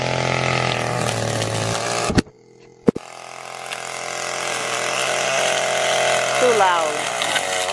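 A weed whacker engine runs loudly and close by with a steady, droning whine. It cuts out briefly partway through, then picks back up and builds again.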